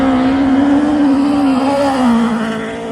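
A 670-kilogram racing buggy with a 3-liter marine Volvo four-cylinder engine makes about 400 horsepower and holds a loud, steady high rev near its limiter. The pitch wavers slightly, then the engine eases off at the end, with no talk over it.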